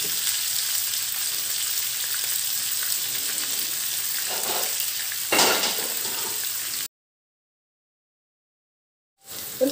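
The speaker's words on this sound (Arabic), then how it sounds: "الخضار بتاعنا اتشوح اهو" Vegetables sauté in a pan for cauliflower soup with a steady, close sizzle and a few stirring clatters. The sound cuts to silence, then briefly returns.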